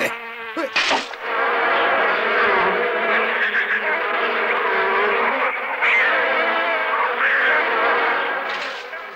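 A swarm of cartoon bees buzzes loudly and continuously in a steady, dense drone, with a short sharp sound near the start.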